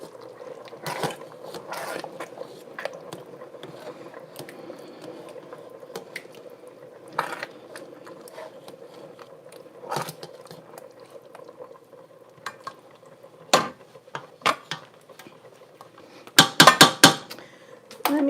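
Sausage casserole sauce being stirred in a pot, with a soft bubbling simmer underneath and scattered scraping clinks of the spoon against the pot that grow into a quick cluster of louder knocks near the end.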